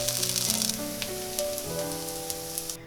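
Very thin batter fries in a pan on medium heat, giving a steady, close sizzle with light crackle that holds evenly for the few seconds before cutting off.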